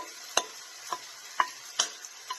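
Tofu stirred in a hot pan over medium heat, a quiet sizzle broken by five or six scraping strokes of the spatula at a steady, unhurried pace.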